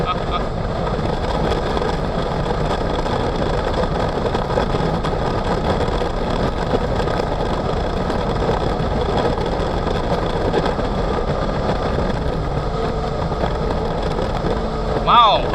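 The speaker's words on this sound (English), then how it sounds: "Wow, I'm really impressed with the quiet engine." A 2026 Sea-Doo personal watercraft cruising on a lake runs with a steady, muted engine drone and water rush that carries on without a break, close and even in level.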